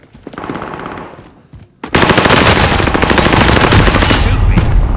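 Submachine gun fire in the Call of Duty: Modern Warfare video game, a loud sustained burst of rapid automatic shots that starts abruptly after a quieter stretch of muffled game sound.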